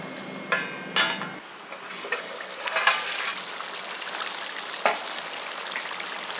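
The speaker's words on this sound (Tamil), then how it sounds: "குழம்பு வந்து நல்லா கொதிச்சுக்கிட்டு இருக்குது" Bubbling and sizzling of a Tamil curry (kuzhambu) simmering in a pot on the stove, with soft pops and a few sharper clicks, steady and close, no voices.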